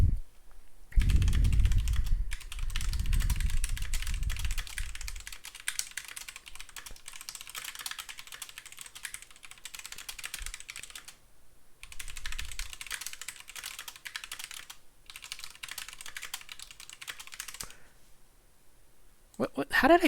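Fast typing on a computer keyboard, a dense run of close clicking keystrokes with short pauses between bursts, accompanied by faint low thumps.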